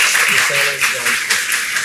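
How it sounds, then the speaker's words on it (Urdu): An audience at Queen Mary College in Lahore claps in a dense, steady stream under someone speaking over it. "ہم ایک تالی تو آپ ہماری بیٹی کے لیے لگائیں نا جی"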